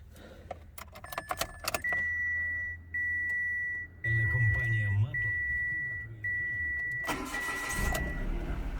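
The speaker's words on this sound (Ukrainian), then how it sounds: "Автомобіль заводиться без проблем, працює рівно, стабільно, справно." A Mitsubishi Mirage starts after a few clicks and steady warning beeps, then its engine settles into a smooth, even idle close by, with the beeping continuing over it.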